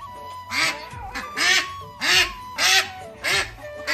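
A domestic duck in an Assamese household quacks about five times in a steady, evenly spaced series of loud, close, nasal calls, with no talk over them.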